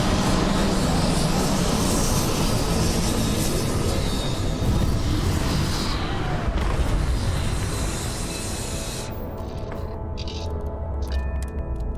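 Retro thrusters of a spaceship fire during landing in Starfield, a loud continuous roaring rumble that holds steady before thinning out and cutting off near the end.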